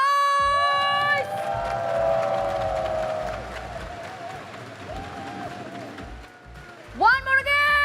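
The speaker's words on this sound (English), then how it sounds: "could you guys please give me the applause and the loud and the noise" A large crowd roaring and cheering in a big arena at an esports grand final, with clapping and a voice over amplified music, swelling loudly again near the end.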